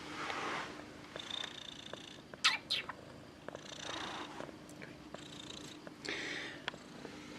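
A house cat purrs steadily and close up in a quiet indoor room by a shrimp tank, the soft continuous rumble carrying on with a few brief handling noises and rustles over it.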